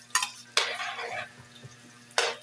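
Garlic is tossed into hot cooking oil, giving a soft, steady sizzle with three sharp bursts as the pieces hit the pan and are stirred, fairly quiet and close.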